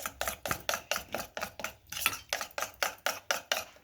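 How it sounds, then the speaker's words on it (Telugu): Beaten egg with milk being whisked in a bowl, a steady rhythmic clinking of utensil against the bowl, about four strokes per second, close and fairly soft. "ఇందులోకి 1 టేబుల్ స్పూన్ అని పాలు మిక్స్ చేసుకోవాలి. దీన్ని ఇలా బీట్ చేసుకోవాలి."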